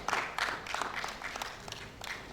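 An audience at an annual lecture applauding, scattered moderate clapping that comes in uneven bursts and stays fairly quiet, with no one speaking over it.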